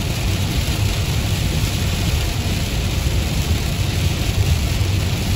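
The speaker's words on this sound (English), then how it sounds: "this is like a torrential downpour to us" Heavy, torrential rain pours onto a car during a road trip through Iowa, a dense, constant hiss and drumming at steady volume throughout, with no voices.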